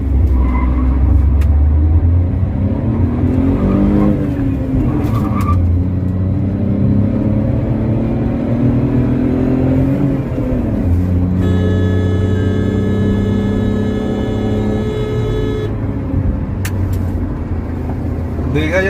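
Tata Punch car accelerating from a stop in economy city mode with the air conditioning running: steady engine rumble and rising drone that climbs through gears, with a brief pause in pull partway through, heard from inside the cabin.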